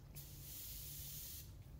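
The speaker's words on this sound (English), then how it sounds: "I'm spraying it 29 PSI, which is 2 bar. Nice and light." A Fuji HV8 spray gun lays down metallic blue paint at low pressure in a steady, close, loud hissing burst that stops abruptly after about a second and a half.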